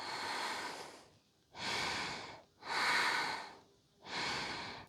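Slow, deep breaths are drawn and released while a yoga pose is held during a mountain Hatha session. Four long airy breaths are close and clear, with pauses between them and no speech.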